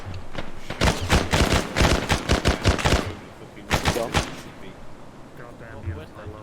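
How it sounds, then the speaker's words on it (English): Rapid bursts of gunfire crack close and loud in the military video game ArmA, a fast volley of shots, a brief pause, then a shorter second burst before the sound falls away. "Shots northwest!"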